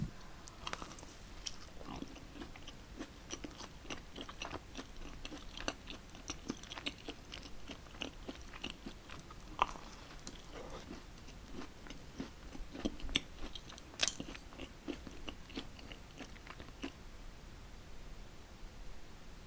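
Close, crisp bites and steady chewing of a Krispy Kreme glazed doughnut topped with white chocolate and colored sprinkles, with repeated sharp crunchy clicks over a soft hiss and no talking.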